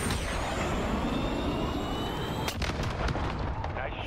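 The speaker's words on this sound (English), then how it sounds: "Nice shot, good kill." A loud, heavy boom goes off in a first-person shooter video game, cutting through a dense rumbling battle din with steady whining tones up close.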